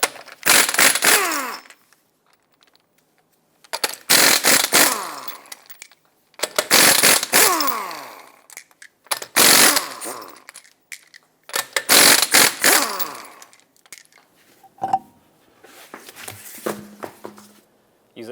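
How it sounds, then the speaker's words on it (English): A 21mm socket on a ratchet loosening the five lug nuts of a 2014-2021 Mazda 6 wheel, heard as about six separate close, loud bursts of rapid clicking with short quiet gaps between them. "Use a 21mm socket and remove all 5 of your lug nuts, and then remove the wheel."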